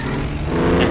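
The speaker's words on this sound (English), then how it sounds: "it's good to hear that old Cummins roar again" Old Cummins diesel truck engine roaring steadily up close, a deep continuous rumble that grows slightly louder toward the end, with no talking.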